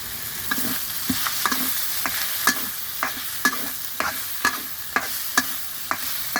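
Squirrel meat stir-frying in a little oil, with a steady sizzle and about a dozen regular scraping strokes of a utensil against the pan, close and fairly loud, with no talk.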